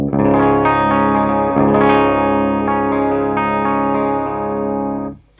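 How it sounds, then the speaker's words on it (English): A clean electric guitar tone played through a Fender Deluxe Reverb amp, with sustained ringing chords that fill the passage steadily and fade out at the end. "This is my clean sound through my Fender Deluxe Reverb."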